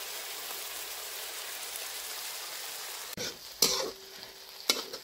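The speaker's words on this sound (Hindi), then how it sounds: "ये देखिए प्याज और मसाला फ्राई हो रहा है" Onion and ground spice paste for a village-style fish curry fry in a pan: a steady hiss of sizzling oil fills the first part, then sharper bursts of spattering and stirring clatter break in.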